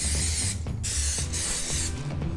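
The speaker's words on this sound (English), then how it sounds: "We're going to just spray that pan for these brownies." Cooking spray hisses from an aerosol can onto a brownie pan in three close, loud bursts, each a steady airy spray, with brief gaps and low background rumble between them.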